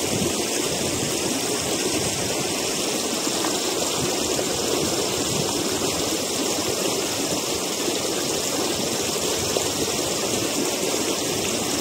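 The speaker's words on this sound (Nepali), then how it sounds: "खोलो चाहिँ धमिलो आछ" A muddy, swollen river stream rushing steadily after yesterday's rain, a dense continuous broadband roar of flowing water, close and loud throughout with no talk.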